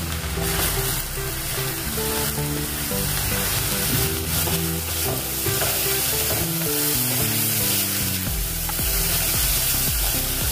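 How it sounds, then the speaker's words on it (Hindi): Finely chopped onions fry in hot oil with cumin seeds and asafoetida for a dhaba-style aloo palak, giving a loud, steady, close sizzle with occasional stirring scrapes throughout. "प्याज को 1-2 मिनट भून लीजिए अच्छे से"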